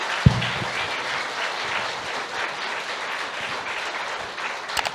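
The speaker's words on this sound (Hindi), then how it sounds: "तो एक जोरदार तालियां होनी चाहिए।" An audience at a motivational wellness seminar claps in sustained applause, a dense, even patter of many hands that carries steadily from start to finish, with one sharp louder clap near the beginning and no talking.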